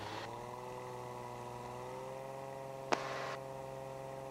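A Cirrus SR22 light airplane's engine runs at full takeoff power, a steady droning hum with an even tone throughout and one brief click partway through, with no voices.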